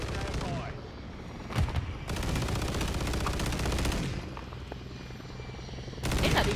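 Dense, continuous gunfire rattles through a Modern Warfare 3 match, sustained bursts layered with rumbling battlefield noise and a helicopter-like drone, fairly loud and unbroken throughout, with no speech.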